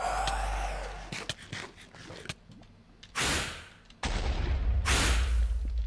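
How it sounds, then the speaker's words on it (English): Explosions in the Nether in Minecraft, several sharp loud bursts with a couple of broad roaring blasts near the middle and end, separated by quieter gaps. "I didn't expect the explosion in the nether to be so big."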